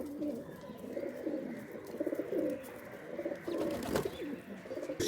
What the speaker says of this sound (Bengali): এগুলো হলো আমাদের লোকাল গিরিবাজ বললে চলে, রাজশাহীর এক নামে চিনে মানুষ